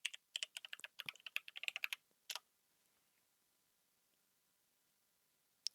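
Quick, close keystrokes on a computer keyboard as a password is entered: a burst of about two seconds of crisp clicking, a couple of final taps, then near silence and one last faint click.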